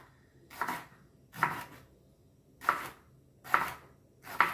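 Fresh jalapeno peppers chopped with a knife on a cutting board, five crisp, evenly spaced close chops with short pauses between, no talking.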